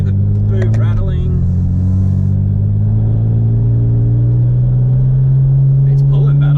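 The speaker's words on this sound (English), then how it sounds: "low RPMs, you can hear the boot rattling" A BMW N54 engine runs at low RPM with a loose boot rattling, making a steady, close, loud low drone whose pitch creeps up slightly toward the end, with faint clatter on top.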